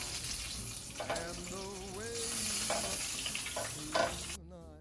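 Bacon crisping in a pan for a breakfast sandwich gives a steady close sizzle and crackle, with bursts of spattering, under a faint voice and a brief clatter near the end.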